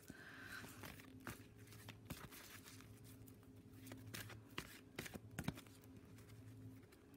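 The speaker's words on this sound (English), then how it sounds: "let's have a knock and shuffle here" Tarot cards are knocked and shuffled by hand, giving quiet, irregular taps and soft riffling clicks close by over a faint steady hum.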